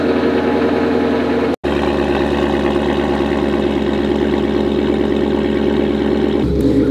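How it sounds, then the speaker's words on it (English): A Ford Mustang idles steadily after a cold start, a loud, close, even engine rumble that holds constant, broken by one very short dropout early on and a slight shift in tone near the end. "we get a cold start up"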